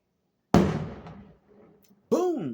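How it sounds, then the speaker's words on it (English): A firework explodes outdoors with one sudden loud boom that rolls off into a rumbling decay, followed moments later by a person starting to talk. "There's gonna be some fireworks in this video"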